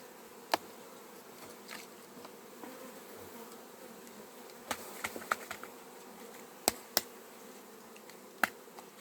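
Honeybees hum steadily around a hive frame, a low buzz throughout, with several sharp clicks and knocks popping out over it; no one speaks.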